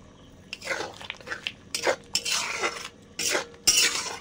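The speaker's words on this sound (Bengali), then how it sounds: "এবার একটু চিনি দিয়ে দিচ্ছি।" A spoon stirs poppy seed paste in a pan after sugar is added, scraping and clinking against the metal in uneven bursts, close and fairly loud, with no talking.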